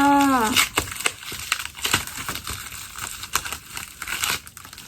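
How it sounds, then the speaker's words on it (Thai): A well-packed parcel is unwrapped, its packaging crinkling and tearing in a run of close, crisp rustles and rips, with a short voiced exclamation at the very start. "อุ้ยแกะยังไงเนาะแพ็คมาดีมากเลยอ่ะ"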